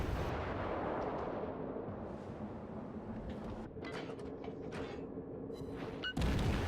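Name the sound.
Kuma-class cruiser guns firing shells in World of Warships video game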